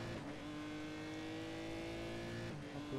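A race car in the video game GRID, carrying damage, drives through a tunnel: a steady, droning engine note with echoing reverberation holds throughout, then swells briefly near the end.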